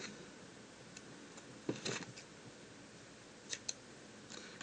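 A few quiet snips of scissors cutting tape into small shapes for watercolour masking, one cluster of cuts near the middle and two brief clicks later, close but faint.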